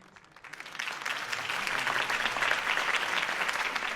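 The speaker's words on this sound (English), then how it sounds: "could have heard that applause" Crowd applause in a Batman video game breaks out after a campaign speech for Harvey Dent, swelling from a few claps into sustained, dense clapping heard from a moderate distance.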